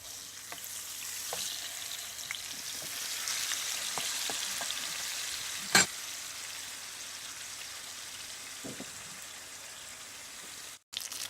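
Fish fries on a low flame with a steady, gentle crackling sizzle that runs throughout, broken by a few faint taps and one sharp clack midway.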